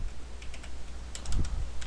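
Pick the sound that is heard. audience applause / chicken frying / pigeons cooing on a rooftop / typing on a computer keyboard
typing on a computer keyboard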